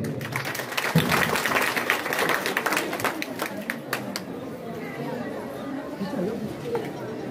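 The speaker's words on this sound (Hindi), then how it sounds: "एक बार सब इनके लिए ताली बजाएं।" A crowd at a Hindi political rally applauds the women in attendance, a dense wash of clapping and chatter with bird calls in the background, fading toward the end.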